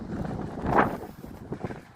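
Strong dusty wind in Jeddah, Saudi Arabia, roars and buffets close against the microphone, with a louder surge partway through and steady rumbling gusts throughout.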